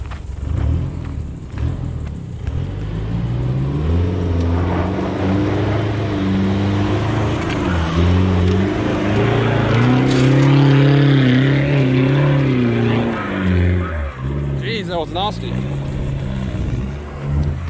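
A 4x4 engine labors and revs on a steep, technical off-road hill climb in Brunswick, Harvey and Waroona, close and loud, rising and falling in pitch as it strains, with people talking over it.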